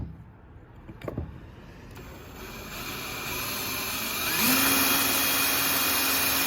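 A power drill with a dull bit works on a Shelby Dodge Daytona, a few clicks and knocks giving way to a steady motor whine that rises in pitch and holds, fairly close.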